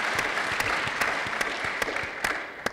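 Audience applause at a policy forum on the Middle East, a steady wash of clapping from a crowd with a few sharper claps standing out, moderately loud and continuous with no voices over it.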